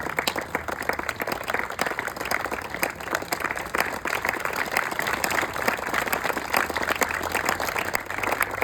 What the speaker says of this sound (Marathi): खूप जोरात टाळ्या वाजूया आपण